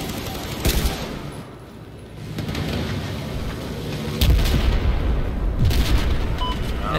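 Machine gun fire in the shooter game Battlefield 4 forms a dense, steady wall of rattling gunfire and booms, with heavier bursts swelling partway through.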